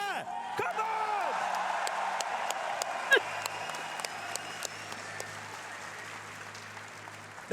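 A large indoor crowd cheers and applauds for Team Germany at the Munich Major esports event, a steady roar of clapping and shouts with sharp bursts throughout, fairly loud and close.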